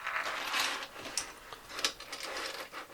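Hard plastic clicks and ratcheting snaps, close and irregular, from 3D printed track parts being fitted onto the drive of an RC Komatsu PC400LC excavator model.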